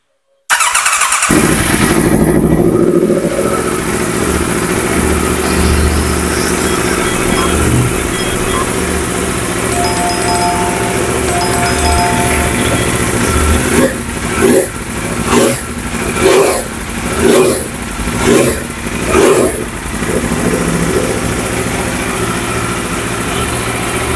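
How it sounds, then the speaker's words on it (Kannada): A superbike fitted with an Arrow Pista GP exhaust idles loud and close, then bursts into a rapid series of sharp throttle blips and revs around the middle of the clip, with the engine dropping back to idle between them. "ಸೊ ಆರೋ ಪಿಸ್ತಾ GP ಎಕ್ಸಾಸ್ಟ್ ಸೌಂಡ್ ಕೇಳಿಸ್ಕೊಳ್ಳೋಣ ನೋಡಿ."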